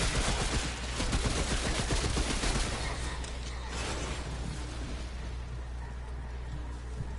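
Enemies firing guns in the video game Remnant: From The Ashes, in a swamp area: dense, sustained bursts of gunfire with a rough rattling texture that gradually thin out and fade, no talking.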